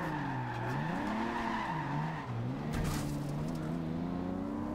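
A Nissan Skyline 2000GTR drifts in Forza Horizon 2, its engine droning and rising and falling in pitch while tires squeal and scrub steadily, with no talking.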